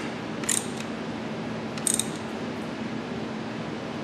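A ratchet clicks in two short bursts while a bolt is tightened during a 6F50 Sport transmission installation on a 3.7 Duratec engine, under a steady garage hum.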